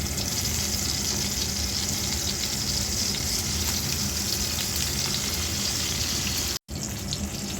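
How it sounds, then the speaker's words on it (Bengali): Eggplant slices fry in a pan with a dense, continuous hiss and sizzle that holds steady for several seconds. It stops abruptly for a moment near the end. "বেগুনটা ভেজে নিব।"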